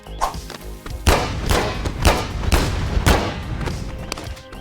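A heavy gun mounted on a welded go-kart fires in the Boneworks VR sandbox, loud booming shots repeating at a steady rhythm of about two per second over a continuous rumbling background.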